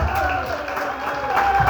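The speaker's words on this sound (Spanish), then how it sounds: "Dale otro aplauso." Congregation in a Spanish-language church service clapping together, a steady dense wash of applause with a sustained tone running beneath, fairly loud and continuous throughout.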